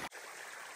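Woods Creek flows along a wooded ravine beside a hiking trail, a steady, quiet rush of running water after a brief cut at the very start.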